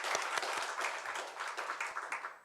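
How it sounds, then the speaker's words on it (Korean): A church congregation at an Easter service applauds together, a steady wash of clapping heard from a distance in a reverberant room. "우리 하나님께 영광의 박수를 드리겠습니다."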